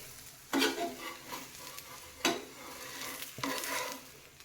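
Vegetable thalipeeth cooks in a pan over a slow flame, a soft sizzle with three sharp scraping or spatula strokes spaced a second or two apart, close by and without talk.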